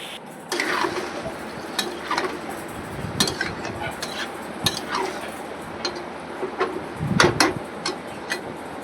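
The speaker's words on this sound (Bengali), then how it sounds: "মশলাটা দিয়ে কিছুক্ষণ কষিয়ে নিতে হবে যতক্ষণ না তেল ছেড়ে দেয়" Spice paste for a motor dal dalna fries in oil while a spatula stirs and scrapes the pan, producing irregular metallic clinks and knocks over a low sizzle, close up with no voices.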